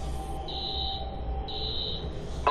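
Electronic alarm tripped in the video game Watch Dogs, two sustained high beeping buzzer tones about a second apart over a low background hum, moderately loud with no talk.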